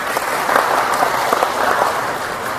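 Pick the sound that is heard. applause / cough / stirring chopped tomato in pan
applause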